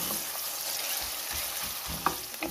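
Onions frying in a pan toward golden for a dhaba-style daal mash, a steady close sizzle with a few soft stirring scrapes near the end.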